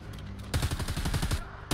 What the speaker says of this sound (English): Preacher, yeah, you're just repeatedly firing on my screen.